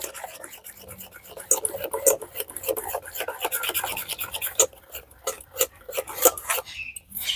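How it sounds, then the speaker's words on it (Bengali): Dry ingredients for soru chakli pitha batter, flour with a pinch of ground pepper, stirred together by hand in a bowl, giving a busy scraping and rubbing rasp that rises and falls in quick strokes, close and moderately loud. "সবকিছু মিশিয়ে নেব একসাথে"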